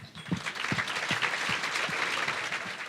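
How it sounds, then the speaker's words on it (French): An audience at a local community event applauds its partners with steady, moderately loud clapping that holds across the whole stretch, broken by a few sharper individual claps. "on peut les applaudir."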